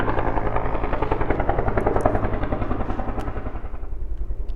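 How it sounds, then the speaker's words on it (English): Helicopters flying over a forest fire, a loud steady rotor thump with rhythmic chopping pulses and engine whine, fairly close and continuous throughout. "Sorry, my video is being interrupted by the helicopters from the forest fire."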